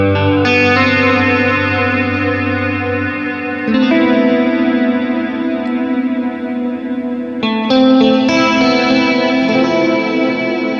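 Electric guitar through a Walrus Audio Julia chorus pedal, sustained chords shimmering and wavering with a lush modulated sweep, struck afresh a few times, loud and close.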